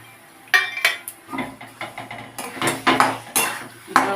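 Chopped colocasia greens get mixed with sugar in a pan, a close run of uneven metallic scrapes and clinks as a spoon works through the leaves, several sharp knocks against the pan and no voices.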